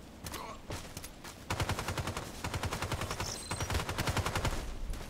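Rapid rifle shots from the DT SRS mk.2 in the shooter game Contract Wars, a quick burst near the start, then two sustained strings of fast, evenly spaced cracks, loud and close with a faint background rumble.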